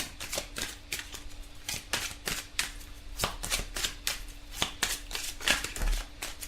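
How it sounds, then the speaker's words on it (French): Tarot cards being shuffled and drawn, a steady run of crisp, rapid papery flicks and snaps close to the mic with no voice over them. "Donc on va tirer 2 petites cartes."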